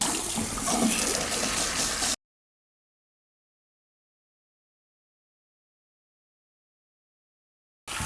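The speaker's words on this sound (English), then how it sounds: "I'm gonna just wash everything out" Tap water runs hard while bleach is rinsed out of hair, a loud steady splashing rush that stops abruptly after two seconds, then resumes briefly at the very end.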